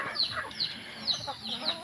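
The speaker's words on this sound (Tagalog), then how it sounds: "Aking mga manok." Several chickens cluck nearby in short, repeated calls, a few higher squawks mixed in over a quiet background.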